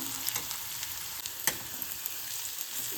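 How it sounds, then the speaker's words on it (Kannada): Onions frying in a pan, a soft, steady sizzle with occasional crackles and light stirring taps, close but fairly quiet, no voices. "ಸೊ ಅದಕ್ಕೆ ಎರಡಕ್ಕೂ ಒಟ್ಟಿಗೆ ನಾನು ಈಗ ಫ್ರೈ ಮಾಡ್ತಾ ಇದ್ದೇನೆ."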